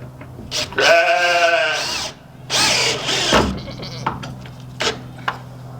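Goats in a barn on an Alaskan homestead in cold fall weather give two loud, close, drawn-out bleats, followed by quieter clicks and knocks in the background.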